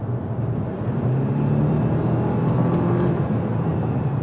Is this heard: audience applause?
no